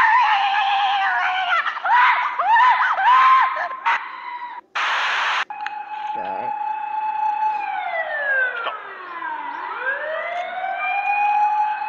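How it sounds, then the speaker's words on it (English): Police siren with rising and falling wails and sweeping tones, loud and close, broken by a short burst of noise partway through. "Try to copy this police siren."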